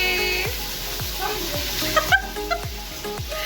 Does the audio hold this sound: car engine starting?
no